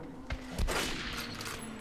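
A gunshot from a weapon in the video game Metro Last Light, one loud blast with a short rumbling tail, heard alone.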